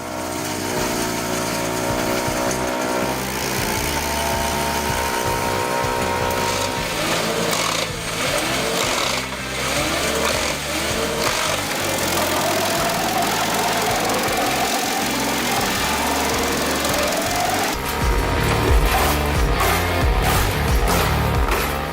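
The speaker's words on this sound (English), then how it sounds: "I really like this Chipper Energy 30 to 60 chipper because the chip drum is flexible and easy to change" Chipper Energy 30 to 60 wood chipper with a flexible chip drum processing wood, a loud continuous mechanical churning with rhythmic knocking and grinding pulses, shifting in pitch as pieces feed through and getting harsher near the end.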